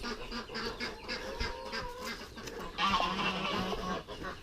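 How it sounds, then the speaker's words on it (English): Poultry call out in a yard, with repeated honking, quacking cries from ducks and geese overlapping in a busy, close chorus amid some rustling. "Look at them stupid ducks."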